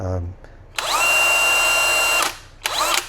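A heavy-duty cordless drill with a large battery whirs up to full speed with a high steady whine for over a second, stops, then briefly spins up again.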